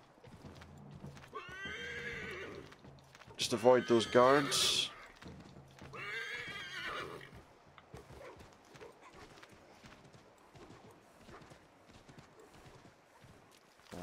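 Horse in the Assassin's Creed III video game, with clopping hooves and loud repeated neighs and whinnies in the middle, alternating with someone talking.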